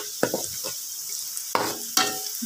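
Onions fry until dark brown for aloo mongray salan, with three distinct spatula scrapes through the pan over a faint, low sizzle.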